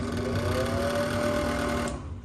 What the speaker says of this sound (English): Here's the exhaust fan.